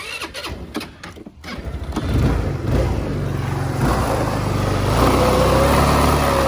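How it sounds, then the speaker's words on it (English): An X-Pro Fiji 150cc Chinese scooter engine catches after a couple of seconds of quiet handling sounds, then settles into a loud, steady nearby idle that carries on to the end. "When you turn this thing on, it rattles."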